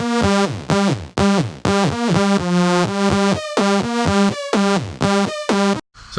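A basic wavetable synthesizer lead without warp mode plays a bright, buzzy, harmonic-rich riff of short repeated notes in a steady rhythm, loud and alone, with pitch steps between notes and no voices.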